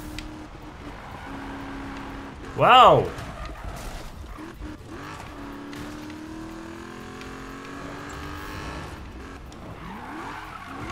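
A Dodge Challenger in the racing game Need for Speed (2015) revs and drifts, its engine tone sweeping up and down with a loud skid burst early on, while someone talks over the game sound.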